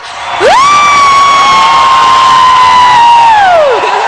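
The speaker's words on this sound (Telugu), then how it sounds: "ఒకసారి గట్టిగా కేక." A single voice lets out one long, loud sustained shout of about three seconds at a singing-competition party show. The shout rises at the start, holds steady and drops off at the end, with no other sounds around it.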